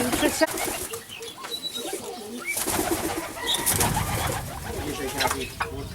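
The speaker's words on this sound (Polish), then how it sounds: "Są, są ptaszki. Są ptaszki." Pigeons coo softly amid scattered bird chirps, with a busy outdoor background and faint voices nearby.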